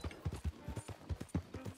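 Horse hooves clip-clop in a quick, steady galloping rhythm in the open-world western game Red Dead Redemption 2, faint and without voices.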